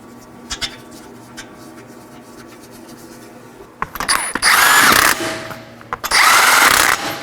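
A power tool snugs down the wheel lug nuts on a 2013-2019 Nissan Sentra after a front lower ball joint replacement, with two loud sustained whirring bursts following a stretch of quiet clicks and small handling noises.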